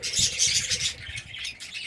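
A colony of budgies keeps up a steady, close twittering chatter, many small birds calling at once in a brief burst with no voices over it.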